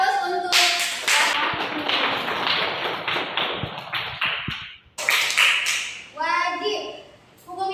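Schoolchildren in a classroom applaud a classmate named Sabita, a crisp round of clapping for several seconds that stops abruptly, followed by a second brief burst and a voice.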